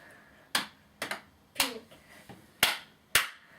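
Children in a music class take turns clapping in a rhythm game, six sharp single claps spaced about half a second apart, fairly close and distinct over a quiet room.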